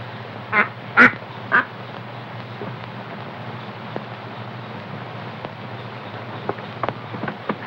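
Duck quacking, three loud, close calls in the first two seconds over steady wind and water noise, followed by quieter scattered sounds.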